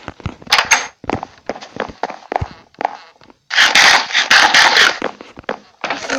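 Player footsteps in Minecraft PE, a loud run of sharp, irregular thumps and clicks, then a dense burst of noisy crunching, with no voices.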